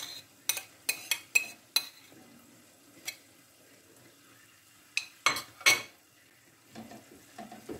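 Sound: crumbling canned tuna to add to the mixture

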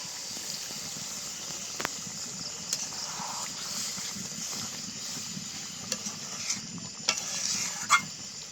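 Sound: chicken cooking in pan, water added for gravy

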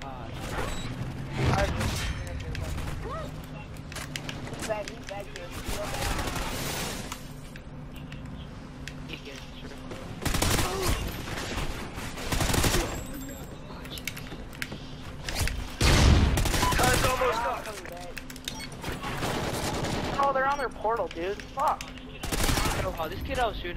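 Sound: gunfire in the video game Call of Duty Ghosts

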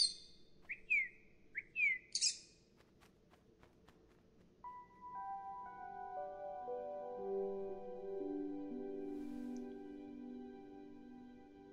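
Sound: pet bird chirping

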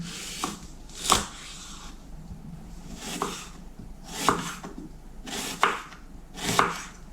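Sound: knife chopping an onion into half-rings

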